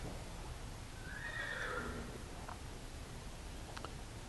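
A horse whinnies once, a high wavering call a little way off, followed by a few soft hoof clops over quiet outdoor noise.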